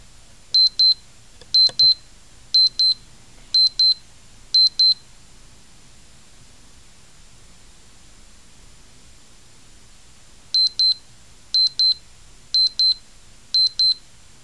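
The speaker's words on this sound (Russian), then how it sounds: "Сигнал будильника." ChN-04 electronic alarm clock alarm: crisp high-pitched beep bursts repeat in an even rhythm, five groups, then a pause of several seconds, then five more, close and loud over a quiet background.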